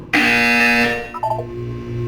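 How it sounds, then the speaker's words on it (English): A loud, harsh buzzer in Portal 2 sounds for about a second, then settles into a lower, softer hum. "You will hear a buzzer."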